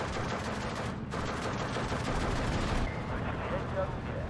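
Gunfire in the WWII strategy game Steel Division 2 on the Bobruisk campaign map, a dense continuous crackle of small-arms and machine-gun fire with heavier thumps, loud and sustained throughout with no pauses.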